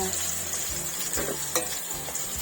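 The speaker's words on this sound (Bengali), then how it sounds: "মাছটা এবার হয়ে গেছে ভাজা" Fish sizzles steadily in hot oil in a pan, a constant close crackle with a few soft clinks and no talking.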